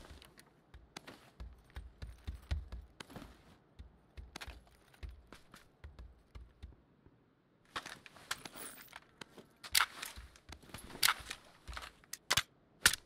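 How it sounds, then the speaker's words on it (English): Scattered sharp gunshot cracks from a video game, some in quick bursts, others isolated, moderately loud against a low rumbling background with no talking. "Already hear gunfire in the camp."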